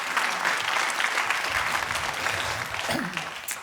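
Sustained audience applause in a conference hall at an economics forum, dense even clapping at fairly loud level throughout, with a faint voice briefly audible near the end.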